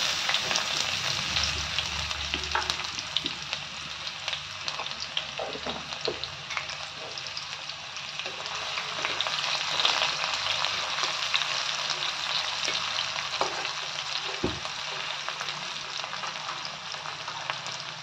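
Cumin, black cardamom, cinnamon, cloves and finely chopped onion frying in a pan for moong dal, a continuous close hissing sizzle with occasional stirring knocks.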